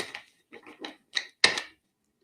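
Tarot cards are shuffled in several short, crisp riffling bursts, close and fairly quiet, with brief pauses between them and no talking.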